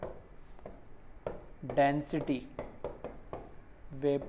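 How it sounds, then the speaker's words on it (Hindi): Scratchy strokes of writing on a board during a chemistry lesson on vapour density, short scraping marks between and under a teacher's speech. "तो शॉर्ट में लिख रहा हूँ मैं, चलो लिख देता हूँ।"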